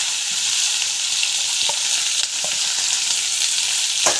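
Garlic and onion sauté in a pan with fenugreek seeds, a steady close sizzle and crackle running throughout, with a few soft scrapes of stirring and no talk.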